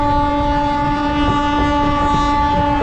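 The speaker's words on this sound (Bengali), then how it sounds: "এদিকে আমঘাটার উদ্দেশ্যে যে ট্রেনটা শিয়ালদা থেকে এসছে সেটাও ছেড়ে দিল" Local train from Sealdah pulling out of Krishnanagar toward Amghata, with a loud, sustained horn blaring close by over the low rumble of the carriages.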